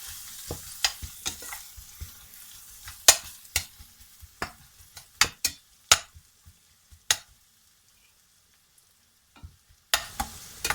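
Pasta cooking in a tomato chutney sauce in a pan: close, irregular spoon scrapes and taps against the pan over a faint sizzle, pausing briefly before the stirring resumes, with no talk.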